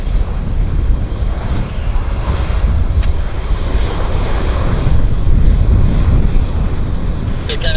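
Airliner landing at Vancouver International Airport, nose held high on touchdown, heard as a steady broad roar of engine and wind rush, loud and continuous with heavy wind buffeting on the microphone.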